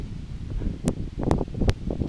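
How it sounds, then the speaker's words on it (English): Outdoor wind buffeting a microphone, a low rumbling roar with a few sharp gusty bursts over about two seconds, close and fairly loud, with no talk. "darn, it's windy"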